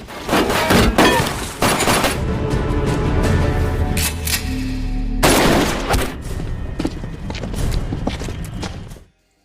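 Rapid bursts of gunfire ring out loudly in the 2020 film Time to Hunt, mixed with crashing and shattering impacts over a dense, chaotic action soundtrack.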